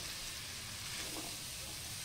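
Bacon sizzles in a pan while Brazilian feijão tropeiro is prepared, a soft steady frying hiss, faint and continuous, with no talking.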